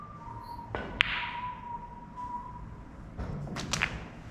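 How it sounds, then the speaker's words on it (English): Snooker ball rattling in the pocket jaws during a long-red practice session, a sharp click followed by a few quick knocks and a soft drop, close and fairly quiet over a faint steady room hum. "that rattled the jaws, but thankfully fell"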